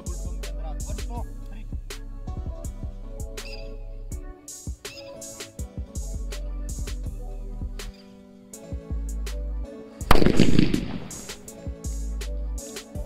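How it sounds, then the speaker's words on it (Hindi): Amid background music with sharp clicks, one loud, booming blast from a large bullet bomb firecracker bursts out and rumbles briefly before fading. "क्या शानदार और जोरदार धमाका हुआ"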